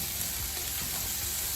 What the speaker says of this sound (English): take our meat, kind of push it over here to the left. Finish sizzling up here.